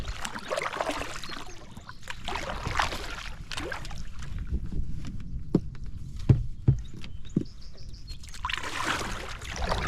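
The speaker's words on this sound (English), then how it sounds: "let's give it a little paddle here" Paddle strokes from an origami folding canoe on a remote pond, soft repeated splashes and water swirls close by, with a few sharp knocks against the hull partway through.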